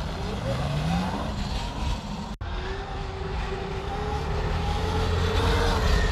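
A Sur-Ron electric dirt bike with a new 80V 40Ah battery running at 17 kW, accelerating at full throttle. A rising electric motor whine climbs over steady wind and road roar, loud and close throughout, with a brief dropout partway through.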